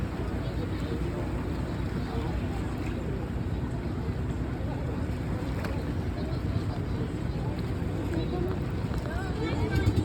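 A boat engine drones low and steady over rushing sea water and wind buffeting the microphone on a trip to Camiguin Island, a constant rumble with no break.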